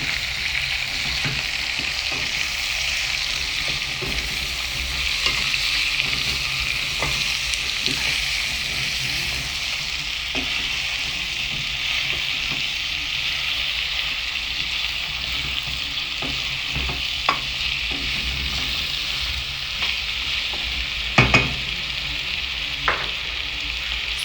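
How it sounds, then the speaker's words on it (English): Chopped onions sizzle in oil in a cooking pot for a beef dish, a steady close hiss broken by occasional clinks and scrapes of stirring, with no one speaking. "So we're gonna put in our onions that we cut."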